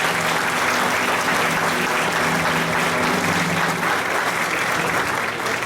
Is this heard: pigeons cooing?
no